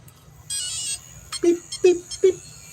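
Three short electronic beeps from an RC model's ESC, evenly spaced and fairly clear, after a brief higher-pitched tone, with a faint fan hum underneath.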